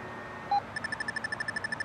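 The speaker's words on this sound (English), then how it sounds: "when you get these higher pitch tones, that means you're climbing" FrSky receiver telemetry plays variometer climb tones from an RC glider: a rapid, evenly spaced train of short high-pitched beeps that follows a single brief lower tone. The beeps are steady and clear over faint background noise.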